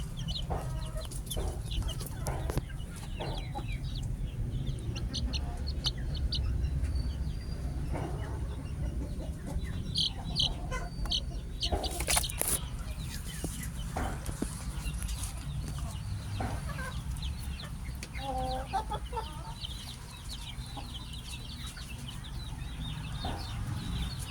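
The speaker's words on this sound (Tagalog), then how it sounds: "Ayan na yung mga chicken natin." Young chickens cheep and cluck continuously inside a homemade brooder built from several baskets joined together, a close, busy chorus with occasional louder bird calls over a low background rumble.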